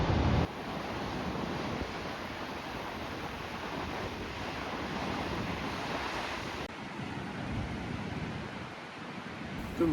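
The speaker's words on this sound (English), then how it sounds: "You can hear the waves all night." Ocean waves roll and break steadily on the Oregon coast at night, a continuous loud surf roar with wind noise buffeting the microphone throughout, no voices.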